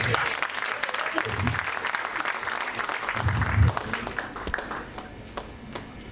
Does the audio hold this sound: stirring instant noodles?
no